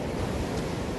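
Sea waves at the seaside near Tarragona make a steady, loud wash of surf with a windy rush, continuous and without pause.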